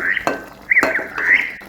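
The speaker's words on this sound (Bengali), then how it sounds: "এই পর্যায়ে ঢাকনাটা সরিয়ে আমি একটু হালকা করে নাড়া দিয়ে দিব।" Chicken biryani being stirred in a pot with the lid off, giving a few short scraping strokes of a spoon against metal over a light sizzle, close and moderately loud.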